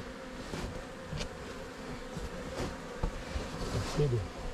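A swarm of bees clustered in an attic buzzes as a steady, dense drone close by, with a few louder bumps and rustles breaking in now and then.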